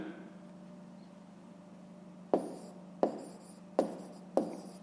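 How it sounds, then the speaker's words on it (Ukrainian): A pen writes out a fifth-grade maths exercise by hand: after a quiet stretch, four sharp, evenly spaced strokes scratch across the paper, close by. "Пишемо отже."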